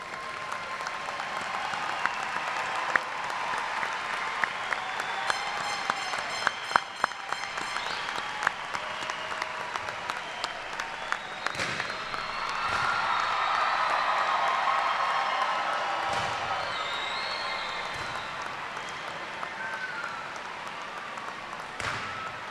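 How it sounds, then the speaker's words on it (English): A large audience at a spring undergraduate commencement gives the graduates a sustained round of applause, with a dense, even wash of clapping that swells in the middle and carries on at moderate loudness throughout. "Please join me in another round of applause for our graduates."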